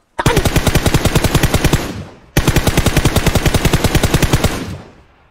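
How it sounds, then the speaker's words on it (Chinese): Two long bursts of rapid automatic gunfire in a battle royale shooter, loud and close, each rattling for about two seconds with sharp evenly spaced shots before trailing off. "一波扫射直接击倒一个"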